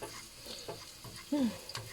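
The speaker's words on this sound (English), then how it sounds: "Stir fry ginger and garlic until fragrant." Ginger and garlic stir-frying in a pan, a soft continuous sizzle with scraping and stirring, fairly quiet and close, a brief vocal sound rising once near the end.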